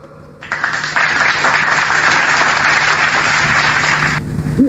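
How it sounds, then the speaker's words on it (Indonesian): Applause from an audience at a religious discussion in Indonesia, a dense steady burst of clapping lasting about four seconds and then stopping abruptly. "Tepuk tangan"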